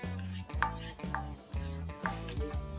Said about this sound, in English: to this oil, I'm going to add 2 tablespoons of finely minced garlic and 1/2 tablespoon of finely minced ginger